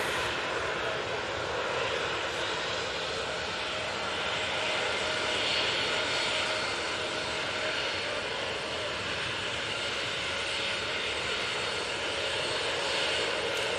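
Steady aircraft engine roar at Manchester Airport as an Emirates jet begins its pushback, a continuous broadband drone heard from a distance with little change throughout.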